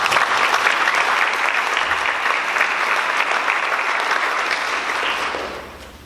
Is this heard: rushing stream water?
no